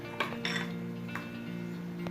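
Salted thick curd mixed in a bowl with a spoon, a few light clinks and scrapes against the dish over a steady low background hum.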